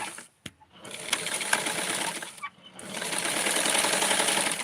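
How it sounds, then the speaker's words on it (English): Sewing machine stitching a Barbie doll dress, close and loud: a short start, a pause, then a steady fast mechanical whirr that runs on continuously, with a light clunk near the start. "So I am positioning myself to sew"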